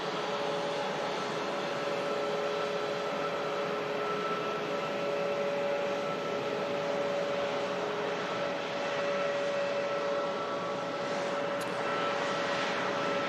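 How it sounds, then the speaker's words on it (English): A Singapore Airlines Airbus A350 taxis out at Manchester Airport, heard from a distance as a steady, moderately quiet jet-engine whine and hum that holds evenly throughout with no talk. "Another Singapore Airbus A350 on the taxi out, this one heading off to Singapore."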